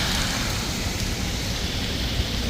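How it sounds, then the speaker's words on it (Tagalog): Heavy rain pours down in a dense, constant hiss with no breaks or letup, a loud wash of sound across the whole stretch and no voices. "Yun ang ulan."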